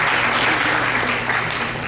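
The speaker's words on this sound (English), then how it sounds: "a big round of applause for her" Audience applause at a Thyagaraja music festival concert, a dense steady wash of many hands clapping close and loud throughout, with a faint low hum beneath.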